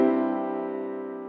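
A short sustained chord of musical tones built from Kepler's planetary speed ratios holds steady and fades gently, with no talk over it.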